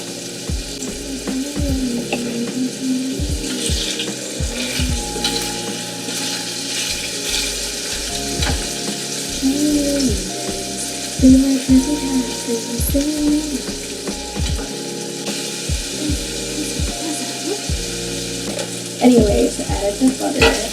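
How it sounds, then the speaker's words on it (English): Butter sizzling and frying in a pan while a spoon stirs it, with steady crackling and scraping taps throughout, a close, continuous kitchen sound with no talk. "I added the butter and I'm stirring."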